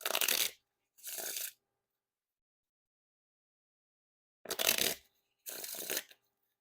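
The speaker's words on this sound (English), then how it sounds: "And now time for the Riffle Shuffle or Bridge Shuffle." Emperor playing cards from Penguin Magic are riffle shuffled in four quick bursts of rapid fluttering clicks, close and crisp, with clean silence between the first pair and the second pair.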